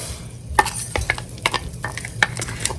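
Orzo toasting in avocado oil in a pan sizzles softly while a utensil stirs it, making quick scraping taps against the pan in an uneven rhythm, close up with no voices.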